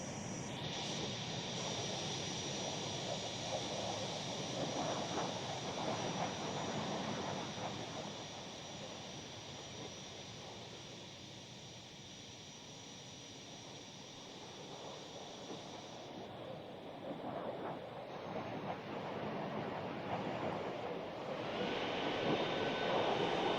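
A military aircraft's engine drones steadily while taxiing on an airfield runway in the ARMA Reforger game, a continuous whine and rumble that dips in the middle and swells again toward the end.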